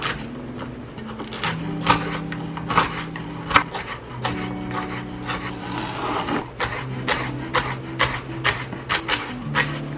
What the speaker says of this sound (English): We are going to cut up the veggies.